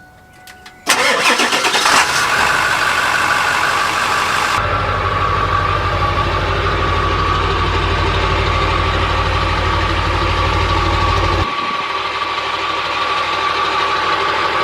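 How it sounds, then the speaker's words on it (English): A 2000 Ford F-250 Super Duty with a 7.3 L Powerstroke diesel and aftermarket exhaust cranks and catches, then settles into a loud, deep, steady rumbling idle heard close up with no talking. "I'm going to go fire up the truck and let you guys hear this bully exhaust firsthand here, let you hear the deep rumble"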